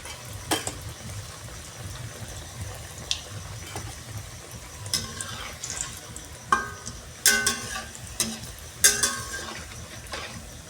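Food fries in a pan, a steady low sizzle broken by several sharp clinks and scraping stirs that grow busier toward the end, close up with no talking.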